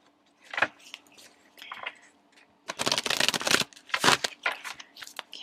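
A tarot deck is shuffled by hand in several bursts of riffling and flicking cards, with soft handling taps between them, all up close.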